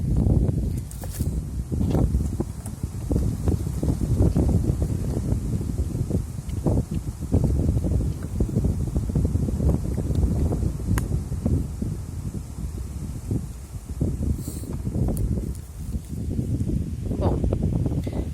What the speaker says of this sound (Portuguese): Tá ventando um pouco